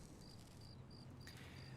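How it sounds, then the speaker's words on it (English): Crickets chirp in a night scene from a TV drama, short regular trills repeating about every third of a second, faint and steady over a low background hum. "then we hear crickets"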